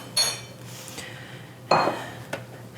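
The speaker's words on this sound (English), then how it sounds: "So we're just gonna put this in our blender." Melon pieces drop into a blender jar in a kitchen, giving two or three hard clinks and knocks with quiet gaps between them, close and without talking.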